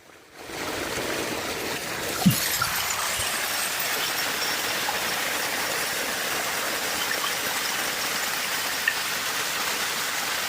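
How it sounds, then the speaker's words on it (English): A tap is left running, and the water gushes in a steady, loud, continuous rush with a couple of faint clicks. "Somebody left the water on."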